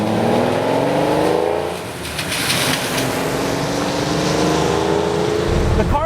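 A Lamborghini Countach engine drones under load while driving, its rising and falling harmonic note rumbling steadily from inside the car, with faint road and wind noise around it.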